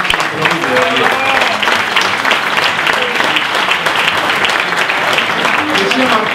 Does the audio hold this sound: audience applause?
yes